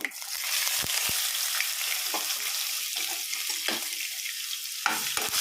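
Onion, cumin and mustard seeds fry in hot oil for a bitter gourd curry, a constant close sizzling hiss broken by a few sharp pops and clicks, with no voices.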